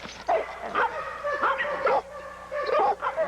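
Pit bull barking excitedly in repeated yipping bursts, close and loud, with a few whimpering notes between barks.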